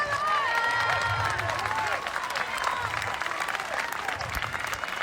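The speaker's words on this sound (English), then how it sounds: "he began walking forward to the applause of the crowd." A crowd applauds steadily throughout, dense clapping with a few voices and cheers mixed in, loud and sustained.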